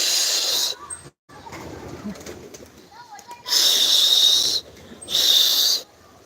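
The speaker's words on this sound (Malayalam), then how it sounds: "എന്താ കണ്ടില്ലേ കിണത്തിൻ്റെ അകത്ത് പ്രാവുകളെ പ്രാവുകളെ" Pigeons coo softly inside a well, low echoing calls set among bursts of loud rushing noise and pauses.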